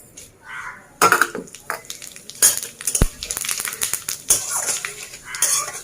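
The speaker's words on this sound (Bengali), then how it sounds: "শুকনো লঙ্কা আর তেজপাতা ফোড়ন দিলাম এইবার দেব দুটো এলাচ আর একটু দারচিনি আর গোটা জিরে" Dried red chilies, bay leaves, cardamom, cinnamon and whole cumin tempering in hot oil, with close spluttering crackles and sharp pops, brief metal clinks of a pan or spoon, and a continuous sizzle.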